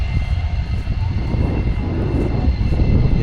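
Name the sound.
propeller airplane engine at airshow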